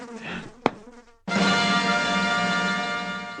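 Mosquitoes buzzing close by: after a quiet moment broken by one sharp click, a continuous, steady insect whine starts abruptly and holds for about two seconds.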